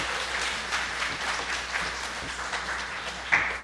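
A live audience claps steadily for a band after its performance at a radio talk show event, dense even applause filling the space with a brief louder swell near the end.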